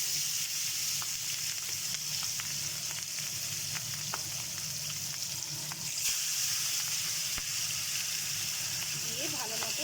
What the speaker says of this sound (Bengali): এই গরম তেলের মধ্যে আমি এখন মাছের পিসগুলো দিয়ে দিচ্ছি।